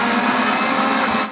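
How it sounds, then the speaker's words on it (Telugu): A kitchen mixer grinder blends gongura pickle ingredients in one loud, steady whirring grind that runs throughout and then cuts off abruptly. "జాగ్రత్తగా దీన్ని అయితే నేను మిక్సీ చేశాను"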